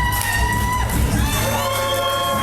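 Hometown crowd cheering loudly at a wrestling event, a sustained roar with whoops and shouts, and long whistles or sirens rising and falling above the noise.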